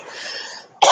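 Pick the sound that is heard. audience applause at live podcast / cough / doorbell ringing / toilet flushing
cough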